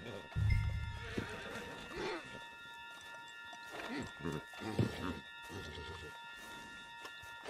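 A horse whinnies loudly at the start in Red Dead Redemption 2, then hooves clop and the animal snorts while someone talks over the scene.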